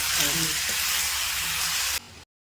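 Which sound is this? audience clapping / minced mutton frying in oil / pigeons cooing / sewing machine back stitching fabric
minced mutton frying in oil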